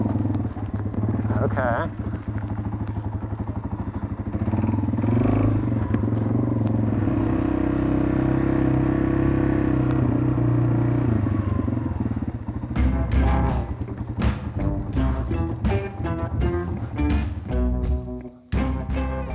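A motorcycle engine rumbles and putters nearby as it rides, with rattling and clatter later and a brief spoken word.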